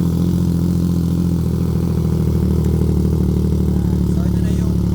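CF Moto 675 SR-R motorcycle fitted with an IXIL exhaust, silencer removed but DB killer still in place, idles with a loud, steady, throbbing rumble close by throughout.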